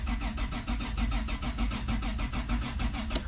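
Toyota T100 pickup engine cranking over without fuel, its tank removed; a steady, rhythmic starter churn pulses continuously at close range with no voices.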